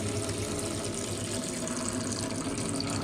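Coolant pours steadily out of a 2009 Yamaha YZ250F dirtbike radiator in a continuous, close, loud liquid gush with no break.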